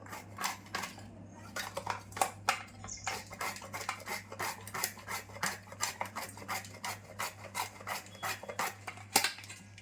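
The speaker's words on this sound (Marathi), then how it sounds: "आता पहिल्यांदा मी ना हे सुकं खोबरं किसून घेते किसणीवर असं" Dried coconut is rubbed against a hand grater in a steady, rhythmic run of close, quiet rasping strokes over a low constant hum.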